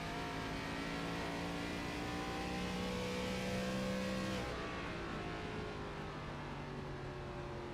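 A race car engine in the racing video game Racers Elite drones continuously at high revs at the Milwaukee Mile, its pitch rising through the gears and then dropping. No voices.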